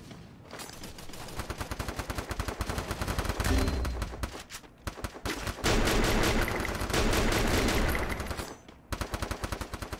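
Rapid bursts of automatic gunfire from a Counter-Strike match, loud and nearly continuous with short pauses between volleys and no talking over it.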